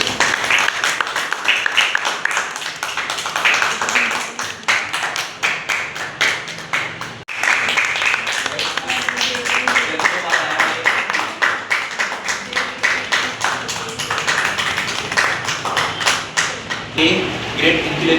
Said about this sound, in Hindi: इनको मिला है ए ग्रेड, तो इनके लिए भी जोरदार ताली बजाइए।